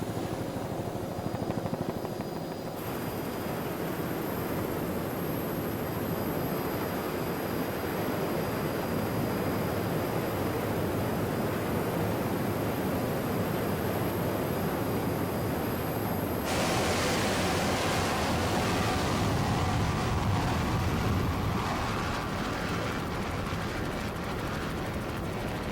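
The PTM Express offshore racing powerboat roars past during a 1988 New Jersey offshore race. The dense, continuous engine and hull noise stays loud throughout and changes character partway through as the boat passes.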